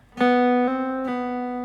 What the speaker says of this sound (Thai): ต่อไปเล่นแฮมเมอร์ออนพูลออฟครับ ช่องที่ 4กับช่องที่ 5 จะได้เสียงนี้นะ